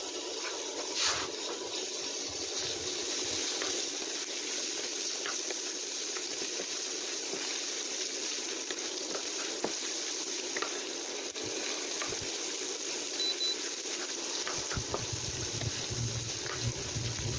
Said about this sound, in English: put the chopped meat without any oil. You need to fry it until it gets golden brown.